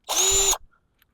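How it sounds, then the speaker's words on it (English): A power drill runs at steady high speed with a drill bit passing through a hole while fitting the flaps and servo on an A-1 Skyraider model, one loud continuous whine of about half a second that stops abruptly. "Let me put my drill bit back through that hole."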